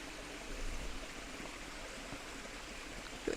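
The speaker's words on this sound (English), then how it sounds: "Look at this stream, it's so pretty and tranquil here." A stream in Butterfly Valley on Rhodes flows with a steady, soft gurgling rush, close and continuous for a few seconds with no voices.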